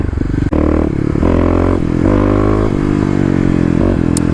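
A Kawasaki KLX351 motorcycle with its secondary throttle blade removed roars loud and close as it revs hard through a power wheelie, one sharp dip early, then a sustained high-revving engine drone.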